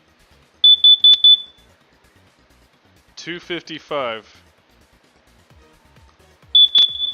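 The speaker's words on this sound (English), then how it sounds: "It's a carbon monoxide alarm." A household carbon monoxide alarm gives two short, sharp, high chirps several seconds apart, with someone talking in a quiet room between them.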